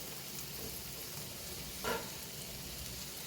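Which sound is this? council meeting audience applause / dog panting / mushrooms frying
mushrooms frying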